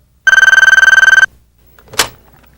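An old-style telephone bell rings in one rapid, loud burst of about a second, its clattering strokes close and dry, followed by a short soft rustle.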